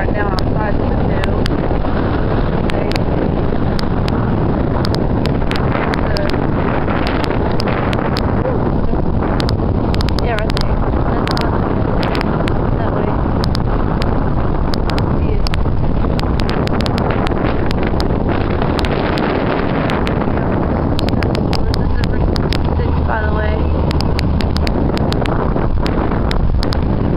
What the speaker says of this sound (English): It's super windy outside here right now, outside the window.